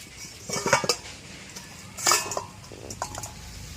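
Metal clanks as a pot lid is lifted off taro stolons cooking in a pan and set down, two sharp clattering bursts with quieter scraping and faint sizzling between them.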